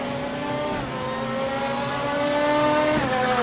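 A WTCC touring car in a racing video game holds a steady, loud engine drone in second gear through a slow corner at the Nürburgring, with a slight pitch dip then gradual rise and faint tyre noise underneath.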